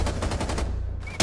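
Rapid automatic gunfire in the video game Rainbow Six Siege rattles out as a loud, fast burst, breaks off into a brief pause, then a sharp loud hit lands at the end.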